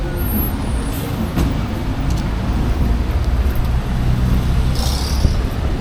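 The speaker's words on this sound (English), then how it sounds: "That's the bus, let's get it." A city bus pulls up on a Cancún street in heavy roadside noise, its engine rumbling low and steady amid traffic, with a brief hiss of air brakes near the end.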